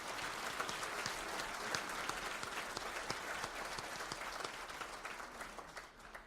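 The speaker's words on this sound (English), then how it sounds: "So one more round of applause for our staff and for Dan Bates" An audience at a chamber of commerce annual meeting applauds staff and an honoree, with dense, steady clapping from a large crowd that fills the room at an even level for several seconds.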